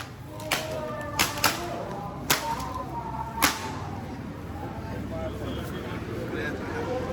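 Sharp whip cracks from penitents flogging themselves during a Lenten penitensya procession on the road from Sta. Ana, Hagonoy to Kapitangan, Paombong, about five distinct snaps spaced irregularly over a steady outdoor crowd murmur and people talking.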